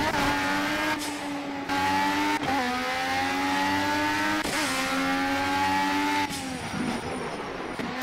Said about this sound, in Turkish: Arabanın sesi de inanılmaz yalnız.